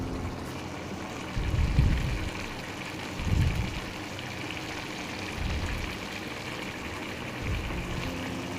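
Tomato thokku simmers in a pan, giving a steady wet bubbling hiss with a few soft, low plopping bursts spread across the stretch.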